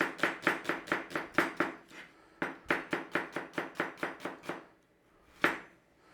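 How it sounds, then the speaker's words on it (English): Knife slicing an onion thinly into strips on a cutting board, a steady run of crisp close chops in two bursts of about eight strokes each, then one last single cut, no talking. "Nice and steady, thinly slice your onion."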